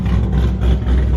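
A Ford Mustang with an X-pipe exhaust idles steadily up close, its deep, loud, continuous rumble running through heat cycles with no talking.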